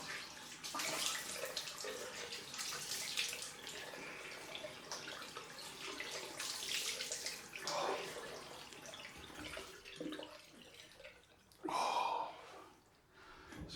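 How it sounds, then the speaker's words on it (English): Cold water runs from a tap for a rinse after a straight-razor shave, a soft irregular splashing and hissing flow with gaps, fairly quiet and close. "Let's do the cold rinse."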